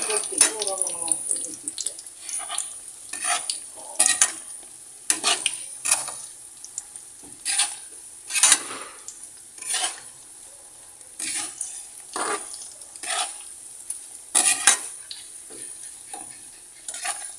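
Banana cue fries in a pan with a loud, close sizzle, broken by recurring stirring scrapes and bubbling bursts throughout, and a voice is heard faintly at times.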